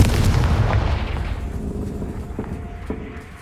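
Spell explosions from the Hogwarts Legacy game boom out as a deep blast that rolls away, followed by a couple of fainter distant thuds and pops as the rumble fades.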